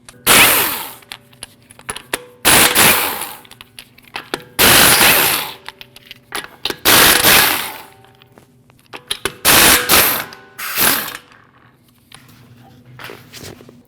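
Tool work removing the five 19 mm wheel lug nuts on a Jeep Cherokee: a series of about seven sharp, harsh mechanical bursts separated by short pauses, loud and close.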